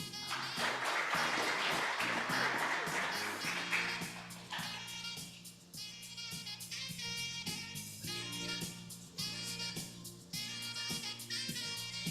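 An audience at a UN Volunteers Kenya closing-day event claps to welcome a speaker, a brief burst of applause that fades within a few seconds as music carries on.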